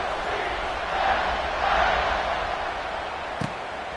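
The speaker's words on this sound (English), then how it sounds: "this crowd is buzzing after that last score" A football stadium crowd buzzes after a score at a college game between FSU and UCF. A steady, dense roar swells slightly and holds throughout, with faint voices blended in.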